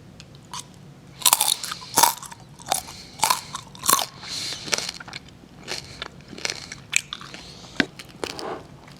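Crunchy roast pork belly crackling being bitten and chewed up close, a series of sharp, irregular crunches and crackles with quieter chewing between bites.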